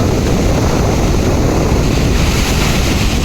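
Sea waves crash against a rock overhanging the sea, making a loud, dense roar of surf that fills every moment, with heavy wind buffeting the microphone throughout.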